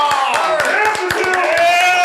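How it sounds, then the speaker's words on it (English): A group of people clapping in time at a holiday special interview, sharp rhythmic claps running steadily throughout, with voices and chatter mixed over them. "Everybody start clapping right now."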